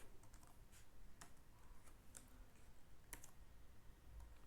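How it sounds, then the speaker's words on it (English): Soft, steady clicking of a computer keyboard being typed on, quiet and close, with irregular keystrokes over a low hum. "typing the header here"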